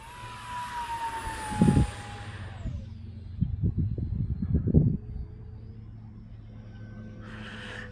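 An X36 RC model jet cruising at half throttle gives a steady turbine whine that descends in pitch and fades as the aircraft passes, with a brief louder rumble near the start and a cluster of rough bursts mid-way.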